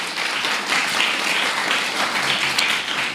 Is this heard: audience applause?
yes